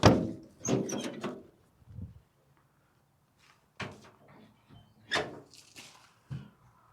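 Heavy rear cargo doors on a 1964 Dodge Town Wagon, a vintage Mopar SUV, open and shut in a series of solid thunks and latch clunks, close and fairly loud, spaced apart with quiet gaps between.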